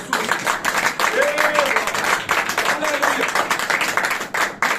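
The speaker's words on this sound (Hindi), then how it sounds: "यीशु मसीह के लिए तालियां बनती हैं" A church congregation in Islamabad claps together for several seconds, a dense, steady patter of many hands with a voice rising over it.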